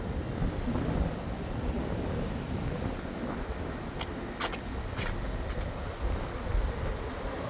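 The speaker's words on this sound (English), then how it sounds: "And again, it's windy right now." Wind rushes over a microphone on a New York City street near the river, a steady low roar with some passing traffic noise underneath.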